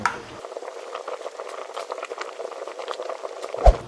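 Goat head curry boiling in a pot, a steady close bubbling and popping that runs throughout, with a brief louder knock near the end.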